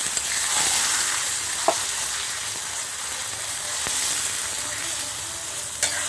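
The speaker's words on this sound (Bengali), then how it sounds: "এ পর্যায়ে আমি সিদ্ধ করে নেওয়া শাকটাকে দিয়ে দেব ভালো করে নাড়িয়ে মিশে মিশিয়ে নেব" Boiled red amaranth greens are fried and stirred in a pan with onion and garlic, giving a steady, close sizzle with a few sharp clinks of the stirring utensil.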